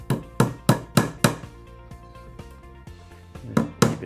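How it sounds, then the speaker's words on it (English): Nails are hammered into pallet wood while a wall shelf is being built, with a run of sharp, close strikes in a steady rhythm, then a quieter pause of lighter taps before a few more loud blows. "we get a couple of nails to start with, and we hammer the nail in"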